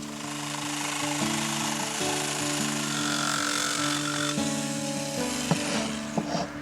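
Wood being cut with a power saw to make a patch piece for a cornice repair, a steady close grinding whir with tonal hum running throughout and a few sharper knocks near the end.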